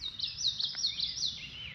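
Common yellowthroat calling in a repeated series of high, bright chirping notes, clear and fairly close over a quiet, faint background, with no one talking.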